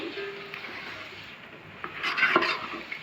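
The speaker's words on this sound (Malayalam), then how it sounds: "ഇനി നമുക്കിത് നന്നായിട്ടൊന്ന് ഇളക്കി കൊടുക്കണം" Jackfruit halwa is being stirred in a pan, with soft scraping and rubbing strokes plus a faint sizzle, building to a few louder clinks and scrapes near the end.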